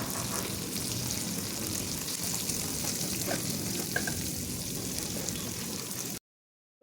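Onions fry lightly in a pan for samosa stuffing, a dense close crackling sizzle with a few soft utensil taps, continuing steadily before cutting off abruptly to silence near the end.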